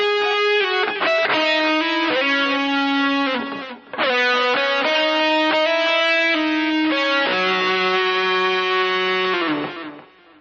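Distorted electric guitar with effects plays a sustained lead melody phrase, with slides and held singing notes, loud and close, fading out at the end.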